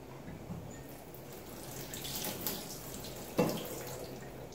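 Saltfish is rinsed under a running kitchen faucet while chayote is being cooked. The water makes a soft, steady splashing that is fairly faint, broken by a brief louder clatter near the end.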